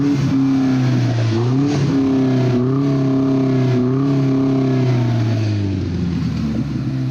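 A Vanderhall Venice engine revs loudly close by, its steady idle drone rising and falling in pitch through several blips of the throttle before settling back down.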